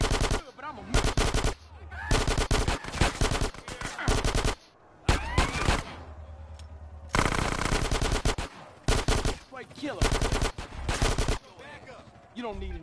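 Gang shootout in Grand Theft Auto San Andreas on PS4 with loud bursts of automatic gunfire and single shots, coming in clusters with brief pauses between volleys, dense and close throughout.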